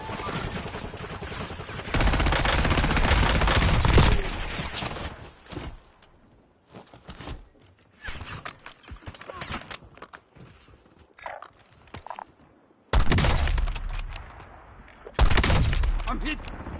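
Gunfire in a video game firefight, with dense bursts of rapid automatic shots in several loud stretches separated by quieter gaps holding scattered single shots and footstep-like clatter.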